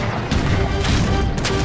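Cannons fire in the video game Age of Empires 3 in a loud, dense barrage, with heavy booms landing roughly every half second over continuous battle noise.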